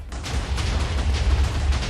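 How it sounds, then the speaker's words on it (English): A large explosion in Minecraft from a base completely covered in TNT detonating against obsidian, heard as a dense, sustained booming rumble that fills the whole clip with no voices. "It's a big explosion."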